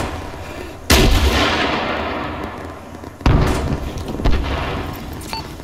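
A tank cannon in ArmA III fires three loud, close booms, the first two a few seconds apart and the third soon after. Each shot rolls off into a long fading rumble.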